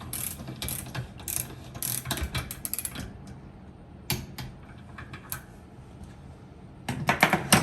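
A wrench ratcheting while torquing the hub bearing nut on a trailer, sharp clicking bursts in irregular clusters close up, separated by quieter gaps.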